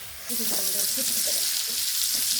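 Rohu fish frying in oil in a pan: a loud, continuous crackling sizzle that starts abruptly and holds steady and close, with faint background sounds mixed in.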